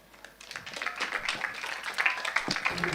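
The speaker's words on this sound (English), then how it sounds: "Let's just give a big round of applause for the 8th UN General Secretary, Ban Ki-moon." Applause for Ban Ki-moon rises at a World Tolerance Day conference during a youth festival, moderately distant clapping that swells from quiet to a steady patter.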